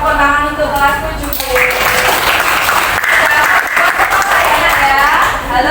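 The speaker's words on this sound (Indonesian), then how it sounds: "Tepuk tangan untuk kelas 7" A class of seventh-grade students applauds in a classroom, loud, dense clapping that swells and continues for several seconds with voices and cheers mixed in.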